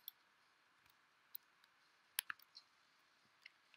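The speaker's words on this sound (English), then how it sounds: "You could probably still hear the clicks of the keyboard." Quiet, sparse computer keyboard clicks, a few isolated taps and a short cluster of quick clicks against a faint background hiss.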